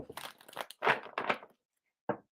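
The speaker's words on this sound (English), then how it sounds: "Let me get a good shuffle in." Tarot cards are shuffled close by in a few quick crinkling riffles, followed by a short pause and one last brief flick of the deck.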